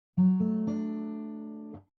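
Three major triads are picked in turn on a guitar's 4th, 3rd and 2nd strings, each attack clear and close, the final chord ringing before it is cut off; no talking.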